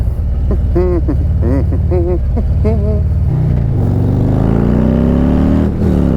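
A Harley-Davidson motorcycle with a 131ci Stage 4 crate engine revs up and down loudly several times, then climbs steadily in pitch through a sustained acceleration, close and dominant throughout.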